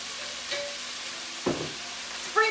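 Red wine vinegar sizzles in a pan with kale, a faint, soft hiss broken by a few sharper stirring scrapes and clinks.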